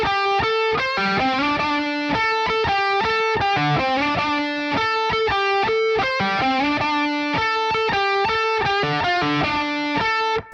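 Distorted electric guitar plays a riff, a fast, repeating pattern of picked notes alternating with open-string hits, loud, close and alone without talk.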